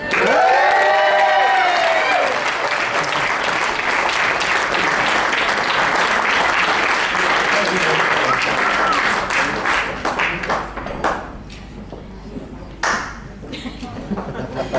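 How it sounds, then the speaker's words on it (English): A wedding reception crowd applauds and cheers for the bride, loud sustained clapping with shouts near the start that thins out into scattered claps toward the end, under a voice heard early on. "Huge round of applause for your bride, Mrs. Christy Cotton."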